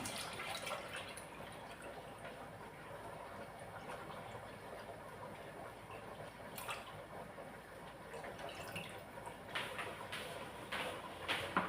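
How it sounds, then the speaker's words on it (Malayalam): Milk poured into a pot for ada pradhaman, a faint steady trickling stream with light splashes toward the end. "ഇനി പാല് ഞാൻ ഇതിലേക്ക് ഒഴിച്ചു കൊടുക്കുവാണേ"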